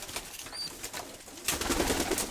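Pigeons kept in a loft on a second floor, with soft cooing and wing flutters that come and go, growing busier and louder toward the end.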